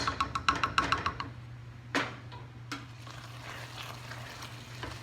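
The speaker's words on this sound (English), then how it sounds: "let this cook for about 4 minutes until the shrimp is cooked through" Shrimp Creole cooks in a pan: a quick run of spoon knocks and scrapes against the pan at the start, then a soft steady sizzle with a few isolated clanks.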